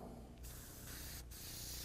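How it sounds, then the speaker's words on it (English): Purple paint sprays from an airbrush onto a fantasy artwork, a steady faint hiss broken by two short pauses as the trigger is released, with no talking. "Let's get some of that purple sprayed out."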